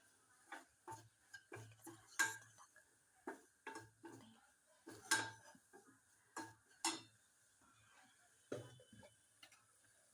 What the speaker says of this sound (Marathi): हलवून घेऊया करपाय नको